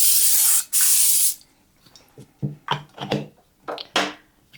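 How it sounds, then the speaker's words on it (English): Two short bursts of aerosol cooking spray hiss loudly into a crock pot, followed by light clicks and knocks of handling. "I'm going to spray my crock pot"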